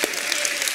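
Dense audience applause at a church service fills the moment, a steady wash of many hands clapping at moderate loudness with a voice faintly under it.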